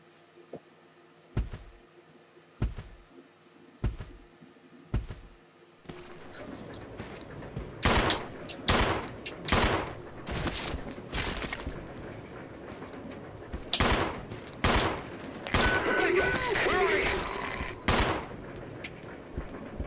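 Gunfire from the survival horror video game Resident Evil 0 HD Remaster: a few evenly spaced single shots, then a denser run of sharp bursts over game ambience, with a voice talking between the shots.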